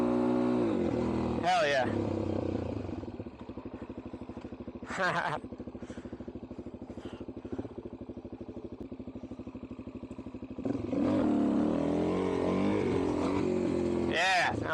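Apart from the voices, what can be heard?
vehicle doing rolling burnouts on Blue Ridge Parkway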